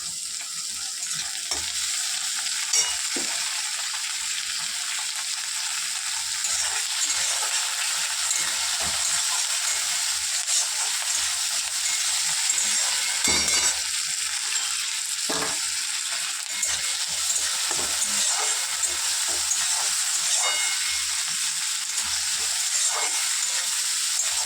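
Shrimp sizzling in a pan with fried onions, a steady bright crackle and hiss that runs throughout, with occasional stirring scrapes and no talk.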